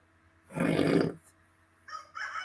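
A person's voice imitates a rooster crow, one loud close cock-a-doodle-doo burst, followed after a pause by shorter higher vocal sounds, with no talk.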